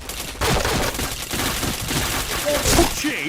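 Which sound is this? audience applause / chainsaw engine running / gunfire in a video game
gunfire in a video game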